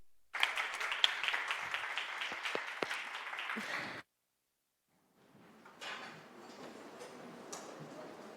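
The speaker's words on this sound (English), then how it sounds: "Can we give them a hand of applause?" Scattered, crisp hand claps from a conference audience at a fireside chat on net-zero supply chains ring out for several seconds, then stop abruptly into silence before a softer, distant murmur of room noise returns.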